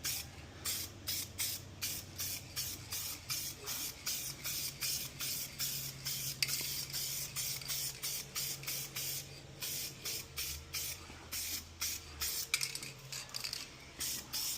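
Car parts being spray painted in a garage during a turbo LS Nova build: steady bursts of aerosol-style spray hiss repeat in a regular rhythm, close and fairly loud, with no voices.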